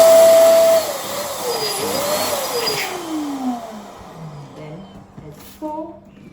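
An electric pump inflates a clear bobo balloon with a loud whining hum that starts strong, then falls and wavers in pitch as it fades near the end.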